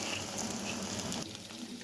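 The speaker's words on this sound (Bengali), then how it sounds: "আদা রসুন বাটা দিয়ে মশলাটা আমি একটু কষাবো।" Ginger-garlic paste and spices sizzling and popping in a pan, a short continuous crackling fry heard close up at low level.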